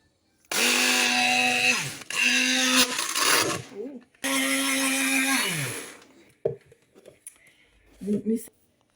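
A countertop blender purees homemade pesto in two loud, sustained whirring bursts separated by a short pause, the motor pitch sagging as each run winds down, followed by brief soft clatter and a few quiet vocal sounds.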